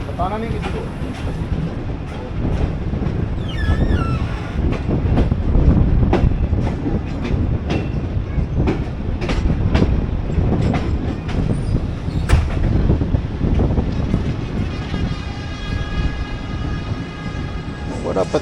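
Pakistan Railways Karakoram Express running on the line, a steady loud rumble of rolling stock with rhythmic clicks and brief wheel squeals, heard from on board alongside intermittent voices.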